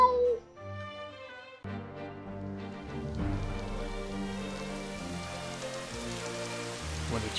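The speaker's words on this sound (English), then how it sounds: "When it rains, it pours." Rain falls steadily in the video game Final Fantasy XV, a soft patter running under a swelling musical score that starts quietly and grows fuller, with no speech over it.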